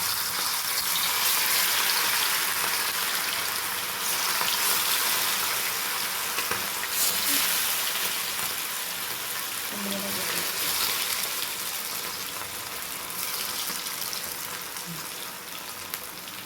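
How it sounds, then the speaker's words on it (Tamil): Chicken 65 pieces dropped into hot oil at home: a steady, loud, broadband sizzle of deep frying that continues throughout with slight swells, a voice speaking faintly over it. "சிக்கன் போடலாம். எண்ணெயில் போடலாம்."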